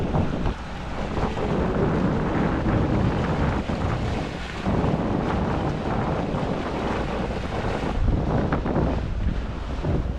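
Fishing boat under way at sea, with a constant loud roar of engine, rushing water and heavy wind buffeting the microphone throughout, with no voices.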